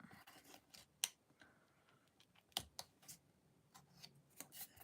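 Paper being cut with scissors for a Christmas craft: quiet, scattered snips and clicks, several sharp cuts spaced irregularly over a few seconds, with no talk.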